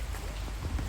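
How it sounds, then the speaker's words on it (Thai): Steady rain pours down, a dense continuous hiss of drops striking a surface close by, with no voices. "ฝนมันตกอยู่มาเข้ามา"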